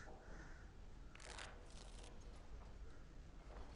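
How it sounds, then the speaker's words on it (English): Cards are shuffled during a duel in the Dragon Age Origins video game, a quiet, soft papery riffle and flutter lasting a few seconds over low background noise. "Before we start, the cards must be shuffled."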